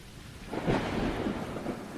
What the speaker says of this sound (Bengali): এই বাজ বৃষ্টি মাথায় করেই হরেন এসে আমার বাড়ির সামনে উপস্থিত